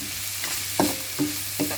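Carrot, cabbage, leek and spring onions stir-fry in a hot pan under a constant sizzle, with three distinct scraping stirs of a utensil at regular intervals.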